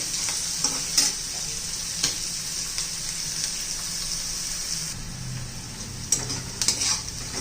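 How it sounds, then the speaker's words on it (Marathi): Onion sautéing in a pan for a moong dal upma sizzles steadily, while a spoon stirs and scrapes it with occasional light clinks. "छान असा कांदा मऊ पडेपर्यंत आपल्याला परतून घ्यायचा आहे"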